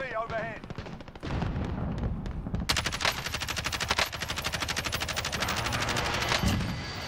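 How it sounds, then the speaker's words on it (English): Gunfire in Call of Duty: Warzone, with a Kilo rifle shooting at long range: rapid repeated shots, loud and close, with heavy battle noise and rumbling blasts, and a voice speaking at moments. "Doing some long range shooting here, I am, mate, with Kilo."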